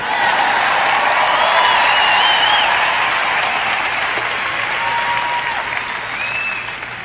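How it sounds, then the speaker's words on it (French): Loud, sustained audience applause fills a French-language sermon on prayer, a dense wash of clapping with a few whistles rising above it before it slowly tapers off. "Je prêche bien, vous feriez donc aussi bien de m'applaudir."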